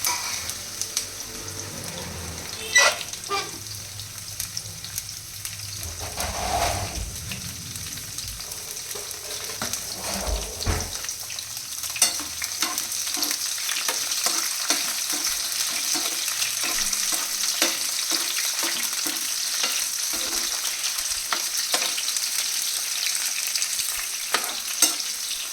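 Okra pieces fry in hot oil, a steady loud sizzle with crackling bursts and occasional stirring clatter, running continuously without any talk.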